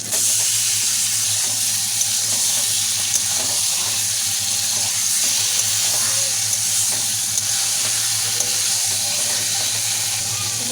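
Marinated chicken fries in a pan with onion and tomato, giving a loud, steady sizzle that runs unbroken throughout, with no voices over it.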